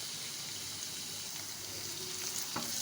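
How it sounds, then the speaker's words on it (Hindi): Ginger, garlic paste and coriander sizzle in oil for chicken karahi, a continuous close crackling fry with some stirring, and no talking. "चंद सेकंड के लिए बस हमें फ्राई करना है।"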